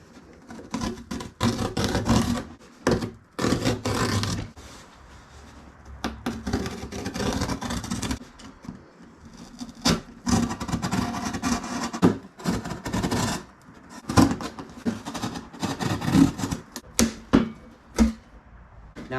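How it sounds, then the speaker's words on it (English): A serrated tool saws through a cardboard box with a loud, continuous, rough rasping, in uneven strokes with brief pauses, close up and without speech. "I really like this kind of serrated tool that I have, so I'm going to do this before I cut through the box."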